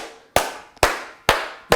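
Four sharp hand claps spaced about half a second apart, loud and close, each with a short ringing room tail, made to clear destructive energies from a room.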